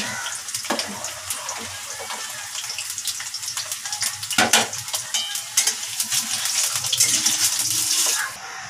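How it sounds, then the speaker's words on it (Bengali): Potatoes fry in a home kitchen pan with a continuous crackling sizzle, broken by sharper scraping and clattering bursts as they are stirred, with no talk. "আলুটা একটু ভাজা হলে মশলাটা দিয়ে দেবো, আর এদিকে আমার আলু উঠছে"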